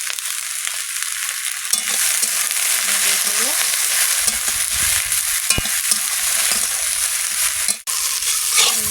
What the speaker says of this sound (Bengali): ভিন্ডি ভাজা হয়ে গেছে।